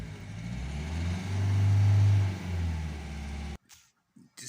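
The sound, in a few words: Volvo S40 1.6 HDi car on test drive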